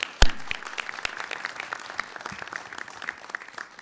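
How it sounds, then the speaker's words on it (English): An audience applauding at a formal address in Washington, opening with a sharp loud clap then settling into a dense steady patter of many hands that gradually thins and softens. "So first of all, a round of applause."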